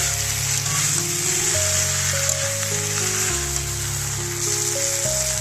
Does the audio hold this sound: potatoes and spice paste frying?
yes